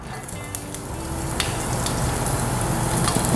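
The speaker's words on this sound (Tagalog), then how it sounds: "magigisa na muna tayo ng ating bawang at onion" Garlic and onion sautéing in hot oil in a pan: a dense, steady sizzle that grows louder, with occasional sharp pops and crackles.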